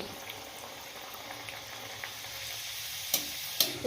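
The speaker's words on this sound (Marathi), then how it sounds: "याच्यामध्ये आता आपण या पुऱ्या सोडूया एक एक." Spinach puris fry in hot oil with a steady, close bubbling sizzle. A couple of sharper crackles pop near the end, with no talk.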